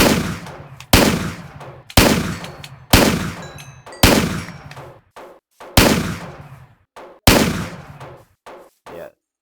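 Shotgun in a Minecraft weapons mod firing about seven loud, evenly spaced blasts, each with a sharp attack and a decaying tail, followed by quieter mechanical clicks and clacks between shots.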